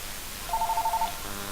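A telephone rings once in a homebrew supply shop: a short, clear burst of rapidly pulsing electronic tone that stands alone against a quiet background.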